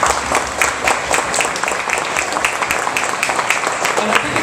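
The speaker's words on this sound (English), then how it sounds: "So thank you and a round of applause for Alexis." Steady applause from a roomful of people, a dense continuous patter of clapping that holds at an even level throughout.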